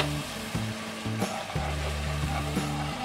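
Spices sizzle and fry steadily in a hot pan while dal mash is cooked dhaba style, with a few clinks of a spoon stirring through the continuous crackle; no voices.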